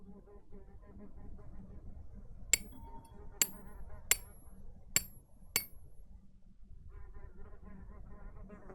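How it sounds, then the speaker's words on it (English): Tool chipping at plaster in The Excavation of Hob's Barrow: five sharp, clinking strikes in an uneven rhythm, close and crisp over a low, quiet ambient hum. "I think I can chip away at this plaster"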